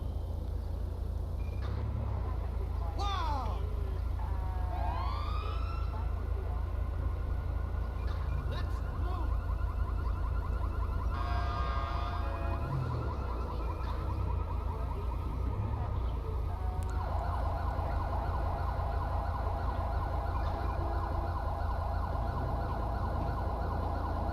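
Video game emergency vehicle sirens in Los Santos wail, rising and falling over a steady engine rumble and road noise, continuing throughout at moderate distance.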